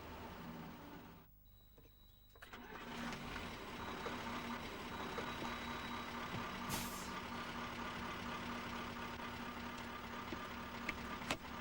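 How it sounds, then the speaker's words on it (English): Goods vehicle engine running steadily at a close distance, with a brief dip in level and then a return to a steady drone, the break matching a pause as the revs fall between gears. "When you're changing up, you need to give a slight delay for the revs to drop before you go into the next gear."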